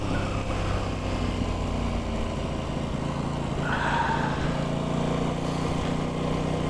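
An Aprilia RS660 sport motorcycle with KTech suspension is ridden through town, its engine drone steady and close throughout with a brief rising note midway, no talk.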